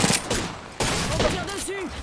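Rapid shooter video game gunfire fills the whole stretch, a dense dull crackle with a brief drop before it resumes, while game sound effects sweep underneath.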